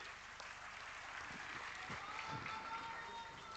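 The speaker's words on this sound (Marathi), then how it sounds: "एकदा जोरदार टाळ्या झाल्या पाहिजेत" Crowd applause at an Uddhav Thackeray political rally in Thane, a steady wash of clapping from a large outdoor audience that holds evenly for a few seconds at moderate distance.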